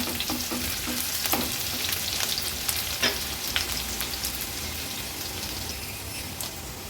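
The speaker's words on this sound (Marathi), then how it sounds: "फोडणीला ह्या लसणाच्या पाकळ्या आणि कांदा घालणार आहोत।" Garlic cloves and onion frying in hot oil for a tempering make a continuous close crackling sizzle, with a few sharp spatters and stirring clatters early on that fade to an even hiss.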